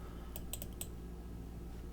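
A quick burst of a few crisp keystrokes on a computer keyboard, close by, followed by a steady low room hum with no talking.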